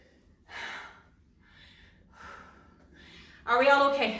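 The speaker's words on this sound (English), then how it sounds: "some serious heavy breathing going on here" Heavy breathing after a full-body workout round, a few loud gasping breaths spaced apart, close to the listener, ending with a voice starting to speak.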